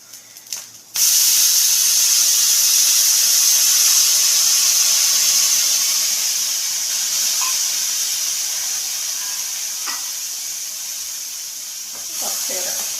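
Tamarind water poured into a hot pan while frying a dish erupts into a loud, sustained steamy hiss and sizzle that slowly eases over several seconds, with faint clinks near the end.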